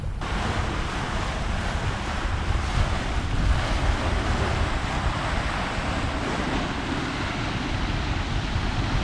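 Steady wind and rushing water on a Hallberg-Rassy 54 sailing upwind across Chesapeake Bay at sunrise, a constant close roar of breeze and wash along the hull with gusty wind buffeting, no voices.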